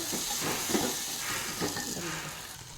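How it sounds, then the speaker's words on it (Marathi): Ground green chili thecha frying in a hot pan as it is stirred and mixed, a steady close sizzle with soft scraping and stirring under it, and a little background voice. "वाटून घेतलेला मी ठेचा घालत आहे। यामध्ये आपण हे मिक्स करू।"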